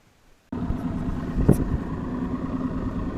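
A boat motor starts up abruptly after a moment of quiet, then settles into a steady low idling rumble close by while idling out of a creek.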